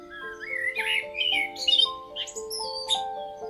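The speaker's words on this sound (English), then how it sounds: "Bird calls," Jungle birds squawk and chirp in short, rising calls over a steady tonal background, several bursts spread across a few seconds at moderate loudness.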